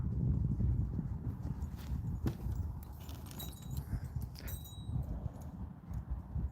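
Horse hooves clip-clop steadily at a walking pace, fairly close, over a low rumbling background with a brief jingle partway through.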